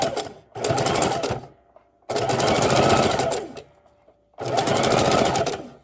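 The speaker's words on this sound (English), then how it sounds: "So we want to go very slow, very gentle as we sew all these together." A sewing machine stitches burlap rag ties together in three long, loud running bursts with brief pauses between, and a voice speaks briefly during a pause.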